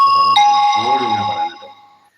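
A bright chime like a notification bell rings once and then fades out over about two seconds. It sounds over someone speaking.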